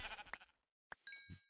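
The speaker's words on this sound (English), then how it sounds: "Hey, another sheep." Bleats from a sheep in the Minecraft video game, two short game cries separated by a brief silence, fairly quiet.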